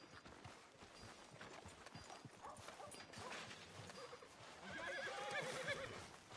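Horse in Red Dead Redemption 2 neighing and whinnying with clip-clopping hooves over a busy town ambience, the whinny rising louder near the end.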